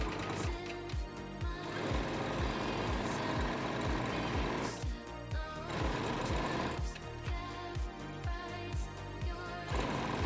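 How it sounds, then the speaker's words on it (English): A sewing machine runs a straight stitch along elastic on stretched bikini fabric, its needle tapping in a fast, even rhythm through several runs with brief pauses between them. "under the machine, stretch the fabric and sew along the marked line with a straight stitch"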